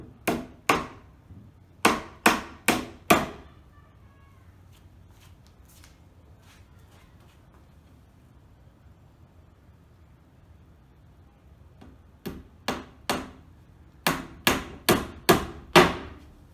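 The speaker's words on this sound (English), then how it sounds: "next we're going to nail these timbers across the bottom" A hammer drives nails into timbers across the base of a wooden herb garden planter box, with two clusters of sharp, close, ringing blows separated by a long quiet pause.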